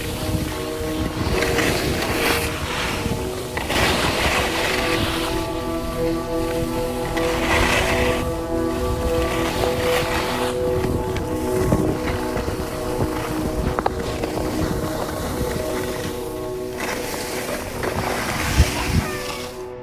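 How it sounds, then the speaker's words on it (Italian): Ski edges scrape and hiss over icy snow on a mountain slope in a steady, loud rush of broadband noise, swelling in gusty bursts as the skis carve. "continuo a sentire il rumore delle lamine sulla neve un po' ghiacciata"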